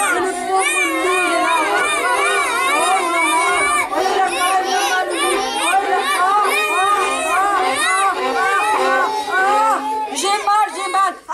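A crowd of children shouts and yells together at a musical story reading, a loud, dense chorus of high voices that carries on without a break for the whole stretch.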